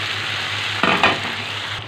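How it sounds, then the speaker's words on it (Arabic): Chicken pieces and onions sauté in butter and oil in a pan, giving a steady close sizzle with a brief louder burst of frying near the middle as food is stirred or added. "حطيت البانيه اهو، وحطيت جنبيه البصل عشان اشوحه كله مع بعض"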